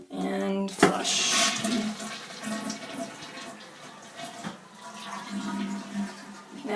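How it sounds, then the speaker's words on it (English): A household toilet flushes in a bathroom after a surgical JP drain is emptied into it, a sharp start followed by a loud, steady rush of swirling water that carries on for several seconds. "And flush."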